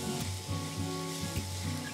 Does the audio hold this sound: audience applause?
no